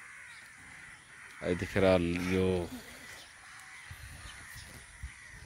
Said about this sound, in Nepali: हिजो फालेका खानेकुरा खानलाई कागहरू एकदमै हारालुस छ